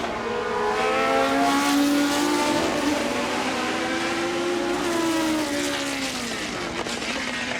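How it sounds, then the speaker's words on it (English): A wailing 3-litre Cosworth DFV V8 in a Lotus 76 race car at a timed shootout, loud and close, its high pitch rising and falling through gear changes as it blasts past. "Wonderful soundtrack from the wailing 3-litre Cosworth DFV in Andrew Beaumont's Lotus 76."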